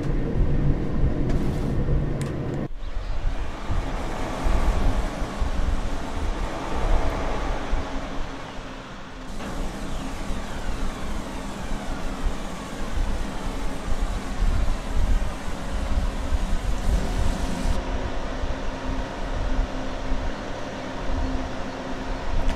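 A regional train on the Niddertalbahn line between Stockheim and Höchst an der Nidder rumbles steadily and close for the whole stretch, with a broad, continuous roar and rail hum that briefly swells and shifts midway.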